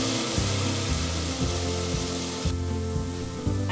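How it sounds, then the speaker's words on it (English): Cabbage sizzling and roasting in hot oil in a pan while cooking veg hot and sour soup, a loud steady frying hiss with a regular rhythmic clatter repeating throughout. "Roast it in the oil for 2 to 3 minutes"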